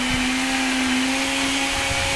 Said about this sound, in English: Let's go ahead and crank it up on high.